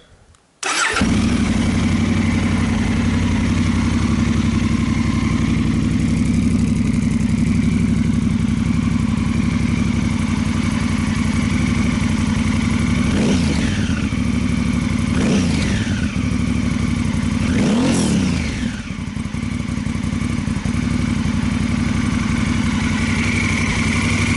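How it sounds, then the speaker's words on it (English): A modified Honda Africa Twin CRF1000L parallel-twin motorcycle fires up and settles into a steady, uneven-sounding idle close by, then three sharp throttle blips rev it up and fall back to idle. "it doesn't sound like a normal parallel twin, you get that uneven sound, but when you're accelerating, just opening the throttle"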